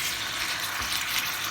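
Chicken pieces fry in a big pot for Thai red chicken curry, giving a loud, continuous sizzle and crackle with no voices.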